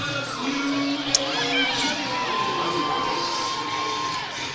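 Arena crowd at a men's college basketball game against Louisiana Christian: a steady, loud wash of cheering, shouting and whoops from many spectators, continuous throughout, with an announcer's voice barely audible underneath.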